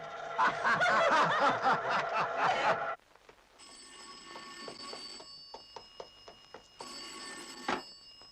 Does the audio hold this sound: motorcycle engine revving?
no